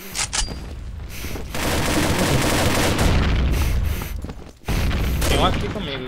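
Loud video-game gunfire erupts in dense, rapid bursts, with a brief pause before shooting resumes amid clattering mechanical sounds.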